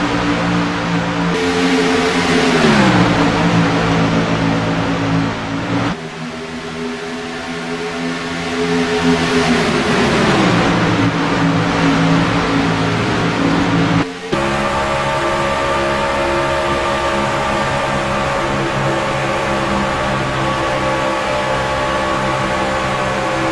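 Race cars running side by side in a racing sim, their engines droning loud and steady with pitch sweeping down and up through gear changes and corners, continuous with no talk.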